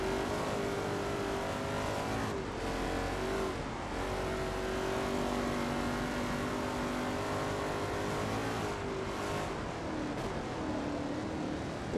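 Race car engine in Forza Motorsport 2, a loud continuous high-revving drone with rising and falling pitch as gears shift, sustained close up throughout without speech.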